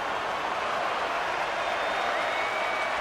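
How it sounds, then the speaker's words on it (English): Arena crowd in NHL 26 AHL hockey at Tech CU Arena, San Jose Barracuda scoring a goal: a broad, continuous roar of cheering and applause filling the space, steady and fairly loud without a break. "The crowd's loving it."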